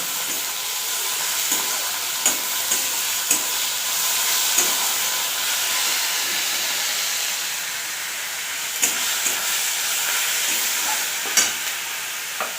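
Ginger and garlic paste frying with softened tomatoes sizzles in a steady, loud hiss, with occasional sharp pops and stirring scrapes breaking through across the whole stretch.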